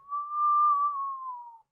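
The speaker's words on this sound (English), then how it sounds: "There's a faint whistle from the wind passing between the rocks." A thin, steady whistle of wind slipping between rocks at a cave entrance, one sustained airy tone that rises in, holds about a second and a half and fades away, alone and soft.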